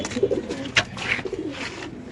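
Several pigeons coo at a pigeon market, throaty rolling calls overlapping in uneven bursts, close and fairly loud, with a brief sharper chirp among them.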